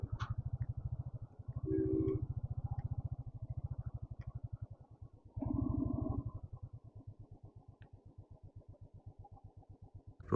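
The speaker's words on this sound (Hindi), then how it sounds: "अरे बाइक जाएगी आगे." Motorcycle engine idling and puttering in a steady low rhythmic chug, with two brief revs, in a parking area near Hatu Peak in Himachal, close and alone.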